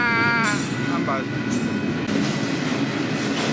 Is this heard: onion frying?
no